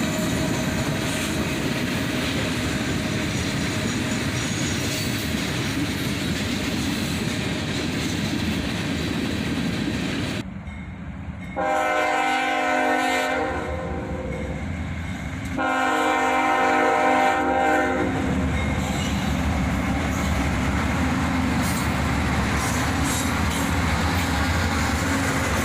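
A southbound train led by the Spirit of Dante locomotive rumbles past loudly, with two long, strong horn blasts sounding over the continuous roar of the passing cars.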